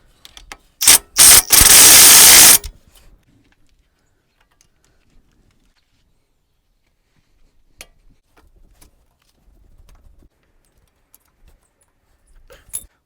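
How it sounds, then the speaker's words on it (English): Tightening a Toyota CV axle nut during a wheel bearing job, one loud burst of ratcheting or rattling tool noise lasting under two seconds, then near silence with a few faint taps. "we gotta tighten this CB axle nut and make sure it's tight"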